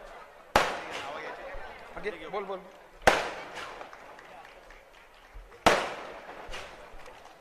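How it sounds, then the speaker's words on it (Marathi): Firecrackers burst at a political party branch visit in Vikhroli, three sharp, loud bangs spaced a few seconds apart, each trailing off quickly, with voices of a crowd talking in between. "फटाके थांबवा जरा थोडं"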